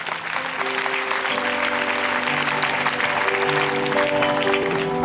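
A church congregation applauds during a sermon. The clapping is dense and sustained, with held keyboard chords underneath.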